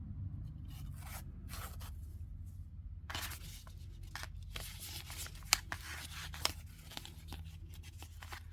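Scissors snipping through paper and lace scraps during an ephemera craft project, a few quiet, close cutting and rustling bursts spread irregularly over a low background hum.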